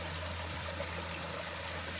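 A trail water source flows steadily as a stream, giving a constant, close, broadband rushing wash with a low hum underneath and no voices.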